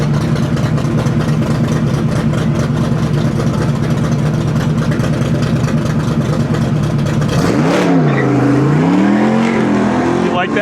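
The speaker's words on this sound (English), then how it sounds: "John up against Josh Leesinger, the fastest car of the show. The Summit Racing Corvette" A high-powered Summit Racing Corvette race car engine roars steadily through an autocross run, loud and continuous, then drops sharply in pitch and rises again as the car brakes and accelerates near the end.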